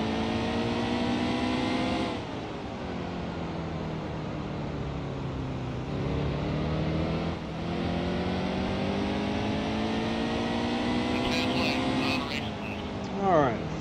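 Race car engine from NASCAR Heat 2 at Martinsville, a loud continuous drone that sinks and rises in pitch through gear changes and throttle lifts, with a sharp rev spike near the end, as someone talks over it.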